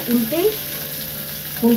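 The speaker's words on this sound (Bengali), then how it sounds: "এবার এইভাবে আস্তে আস্তে উল্টে পাল্টে ভেজে নিতে হবে" Pieces of boal fish frying in oil in a pan, a steady soft sizzle throughout with faint tonal sounds near the start and end, no speech.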